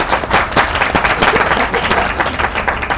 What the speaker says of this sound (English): Let's have a good round of applause for the DNSSEC players here